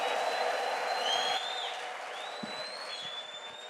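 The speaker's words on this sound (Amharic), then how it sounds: "አንድ የእልልታ ጭብጨባ ምስጋና ታመጣለህ ሃሌሉያ" A church congregation ululating and clapping in praise, high trilling voices over a dense wash of applause, loud at first and then easing slightly.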